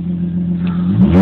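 A 2010 Lexus IS 250 F Sport with an aftermarket intake and the resonator replaced by a straight pipe gives a short, loud, close rev that rises from a deep idle rumble near the end.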